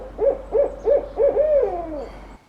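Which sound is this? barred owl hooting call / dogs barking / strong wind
barred owl hooting call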